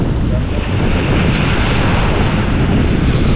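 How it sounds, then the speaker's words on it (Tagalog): Strong waves surge and crash along the shore of a fish pond area, a loud continuous roar mixed with heavy wind buffeting the microphone and no voices. "Lakas ang alon na no."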